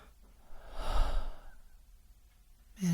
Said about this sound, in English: breathing into your solar plexus again, between your belly button and where the ribs meet in front of your body